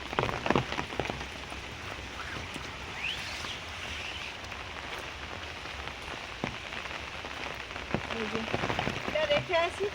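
Heavy rain pours steadily on surfaces around a rural home, a dense close hiss with scattered louder drips and a voice speaking now and then.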